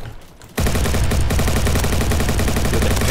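Rapid, loud hip-fire gunfire in a video game, bursting in after a brief quiet start and hammering on as a dense, continuous stream of close shots for the rest of the moment.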